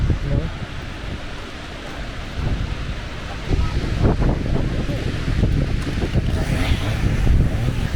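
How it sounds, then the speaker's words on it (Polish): Strong wind roars across the Tatra mountains in a rough, continuous buffeting rush that swells louder toward the end, hitting the microphone with gusty low rumbles. "i tak zjechalny wiatr nie odpuszcza i przestaje lubić ludzi"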